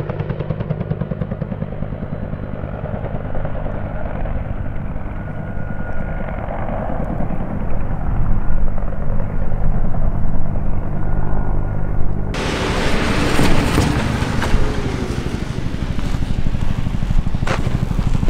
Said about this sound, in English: I'm pretty sure the sheriff just landed their helicopter on our property to let their little suction hose down